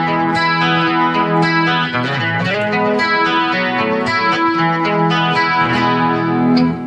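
Electric guitar through a compressor effect on a BOSS eBand JS-10, strumming sustained chords with an evened-out, effect-heavy tone, played steadily and loudly for several seconds with no talking.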